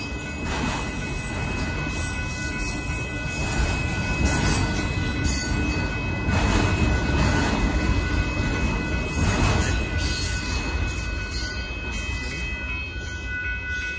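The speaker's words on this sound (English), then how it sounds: "This train is like molasses." Northbound Union Pacific auto train rolling slowly past Dittmar Road in Austin, Texas, with a continuous rumble of wheels, periodic clanks and high metallic squeals throughout, nearby and fairly loud.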